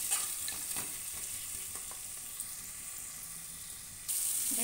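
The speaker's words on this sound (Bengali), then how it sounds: "দেখতেই পাচ্ছ সবজিগুলো হালকা ভাজা হয়ে যাচ্ছে।" Vegetables seasoned with salt and turmeric fry in a pan, a constant close sizzle mixed with light stirring scrapes, with no voices present.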